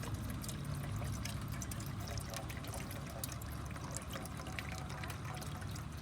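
Water pours steadily into a container, a close, continuous splashing and trickling stream that runs without a break and without talk over it.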